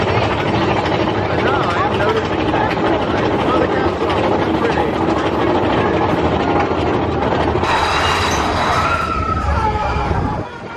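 The Big Thunder Mountain mine train at Magic Kingdom rattles and roars loudly along its track for about ten seconds, with mixed in voices and crowd noise, and a brighter hiss joins near the end.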